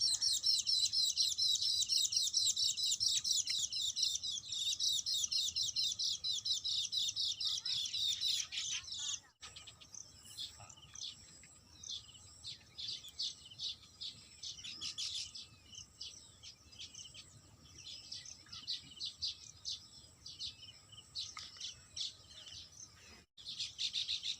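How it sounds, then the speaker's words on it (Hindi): Many small birds chirp and tweet busily among tree branches around their nests near a temple, a dense loud chorus at first that thins to scattered, lighter calls over a faint low hum. "आखिर चिड़ियाँ जो हैं किस तरीके से इन घोंसलों में प्रवेश करती हैं और किस तरीके से बाहर आती हैं।"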